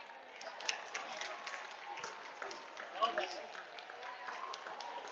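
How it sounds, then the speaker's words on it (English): Sparse crowd murmur drifts from the stands at a spring training baseball game between the SF Giants and Arizona Diamondbacks in Scottsdale, faint and distant, with scattered claps and nearby talk over it. "you can hear a little bit of the crowd noise back there"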